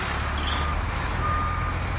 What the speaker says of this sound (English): waving her arms to welcome large flatbed trucks piled high with aqua blue pipes